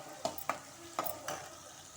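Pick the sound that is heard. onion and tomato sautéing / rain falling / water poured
onion and tomato sautéing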